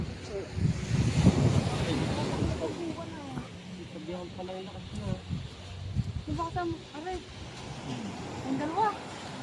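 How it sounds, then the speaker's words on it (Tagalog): Wind gusts and rushes against a background of surf, while several people talk over it throughout. "Oh, ngayon lang lumakas ang hangin."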